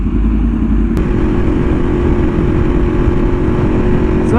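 A BMW S1000RR with an aftermarket exhaust idles with a loud, deep, choppy burble close by, the engine note rising slightly after a sharp blip partway through, with no talking.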